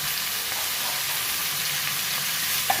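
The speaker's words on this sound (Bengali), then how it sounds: "ঢাকা দিয়ে কষে নেব।" Pumpkin curry with salt, turmeric and green chillies fries in a pan, a loud, steady, even sizzle with no break, plus a faint scrape near the end.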